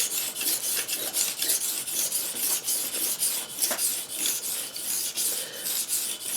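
A Newfoundland skinning knife with a strongly asymmetrical, almost chisel grind is stroked over a fine, consistent synthetic sharpening stone, giving a steady run of close, rhythmic gritty rasps with no pauses or talking.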